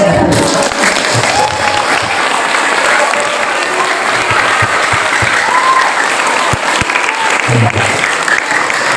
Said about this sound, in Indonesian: semuanya silakan tepuk tangan di atas.